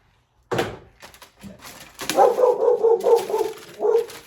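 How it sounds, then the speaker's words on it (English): A dog barks indoors during pottery work, an abrupt bark after brief silence, then a run of repeated loud barks and yips close by. "There's our dog."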